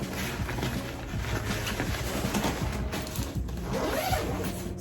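A zipper running around a Neewer ring light bag gives a steady, close, faint raspy zipping that lasts several seconds with small bumps and rustles.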